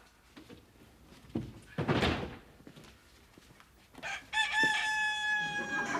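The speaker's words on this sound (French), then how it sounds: "Voici, c'est le coq qui vous a réveillé?" A rooster crows once near the end, a clear drawn-out cock-a-doodle-doo after a few soft thumps and knocks, fairly close in an otherwise quiet setting.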